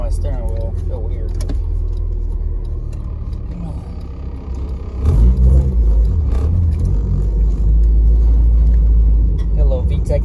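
A Honda car with a VTEC engine and a manual gearbox, heard from inside the cabin: a low engine drone swells into a louder, deeper rumble about halfway through as it revs, with a voice over it.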